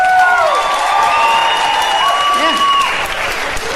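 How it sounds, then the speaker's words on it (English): A stand-up comedy audience of parents claps loudly and steadily across the whole stretch, with a brief shout and a voice carrying over the applause. "Applaud if you got kids."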